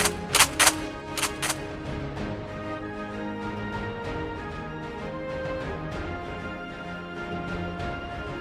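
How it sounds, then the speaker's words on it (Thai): Gunfire effect for a Thai-dubbed fantasy manga: a few sharp, loud bursts of shots crack out in the first second and a half, then give way to a steady music bed. "ยิงรูดจัดการมันเลย"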